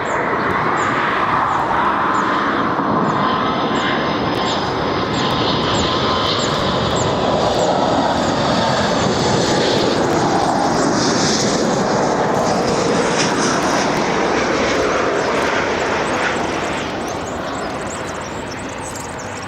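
A large passenger airliner arriving on runway 24R at Barcelona airport, a loud, broad engine roar that holds steady for most of the clip, then eases slightly toward the end.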